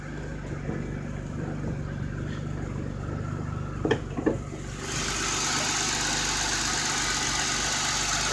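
A 1988 BMW E28 535is engine idling after a cold start, a steady low idle with a couple of brief knocks near the middle, then a louder, brighter hiss that takes over and holds to the end.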